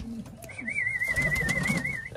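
A pigeon coos in a steady, wavering call for nearly two seconds. It sounds close and clear over a low, busy background, and a parrot is kept nearby.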